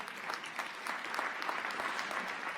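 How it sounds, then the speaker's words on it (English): Audience applause at an awards ceremony for mentoring, a steady wash of clapping from a seated crowd lasting throughout, moderately distant and even in level. "We'll clap for you guys here."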